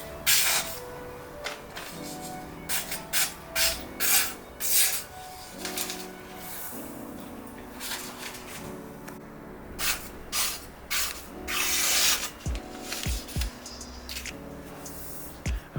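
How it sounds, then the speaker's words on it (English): A sharpened knife blade slicing through newspaper to test its edge: a series of quick, papery rasping swipes repeated in an uneven rhythm, fairly close and clear, with a steady tonal hum beneath. "I'll do a slice with the blade, and that's to hear the blade, how the actual edge sounds"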